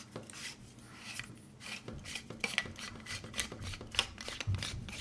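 Small metallic scraping and clicking come up close as the base plate is unscrewed from a 40maxx gas gel or orbeez grenade, with rhythmic rasping turns and a few sharper ticks.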